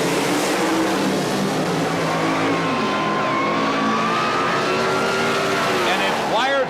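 A 1923 Model T Roadster makes a Pro Comp Eliminator drag racing run at the 1977 NHRA Springnationals, its engine roaring loud and steady with rising pitch throughout, while an announcer talks over it.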